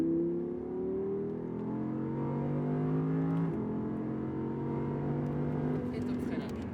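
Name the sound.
Audi R8 accelerating on Le Mans circuit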